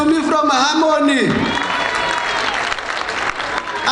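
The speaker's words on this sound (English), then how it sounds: "Clap hands for Dr. Tumi from Harmony." An audience at a World AIDS Day 2019 launch event breaks into loud, sustained hand clapping that follows a brief spoken introduction and continues steadily to the end.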